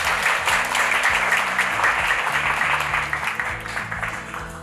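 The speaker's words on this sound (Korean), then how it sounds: "박수로 모시겠습니다." Audience applause greets a speaker stepping up at a Korea Student Aid Foundation scholarship mentoring event, a steady dense clapping that fills the room at close range and fades slightly toward the end, with music or low tones underneath.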